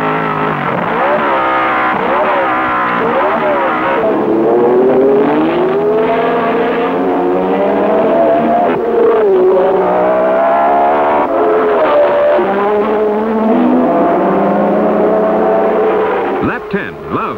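Race cars roaring down the main straight at a 1969 Cape South Easter circuit race, engines howling at high revs with rising and falling pitch as cars pass, loud and continuous, under a commentator's voice.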